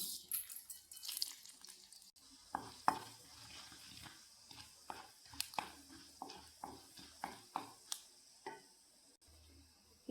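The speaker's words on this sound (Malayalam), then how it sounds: "ഞാൻ വെളിച്ചെണ്ണ ഒഴിച്ചു കൊടുക്കാം രണ്ട് സ്പൂൺ വെളിച്ചെണ്ണയുണ്ട് ഒഴിച്ചു കൊടുക്കാം കുറച്ച് ഉഴുന്ന് പരിപ്പ് ഇട്ട് കൊടുക്കാം" Urad dal frying in two spoons of coconut oil for a Saravana Bhavan-style tomato chutney, heard as a soft sizzle broken by a run of distinct stirring scrapes and taps at a fairly even pace, with no talk.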